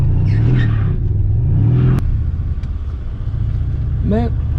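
A motorsport car engine running on worn tyres rumbles and revs steadily, with a rising pitch swell near the end, under a voice talking over it.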